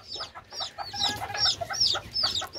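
Mother hen repeatedly calling her chicks in a cage, a quick series of soft clucks and chirpy calls close by, with no talking.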